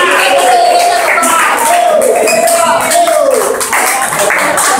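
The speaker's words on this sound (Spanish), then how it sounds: "aplausos." Warm applause and cheering at a family birthday party, continuous close clapping with voices calling out over it.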